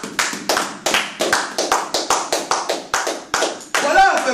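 A congregation claps in unison at a church service acclaiming Jesus, with steady rhythmic claps about twice per second, loud and close, under a faint murmur of voices.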